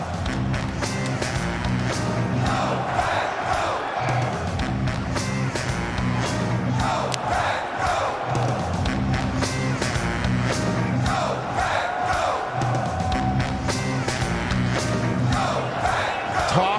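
A large NFL Draft crowd in Green Bay cheers and chants, a loud, continuous roar of many voices with rhythmic swells and whoops filling the whole stretch.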